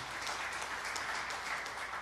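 A church congregation applauds together, a steady, dense wash of clapping that fills the room evenly without breaks.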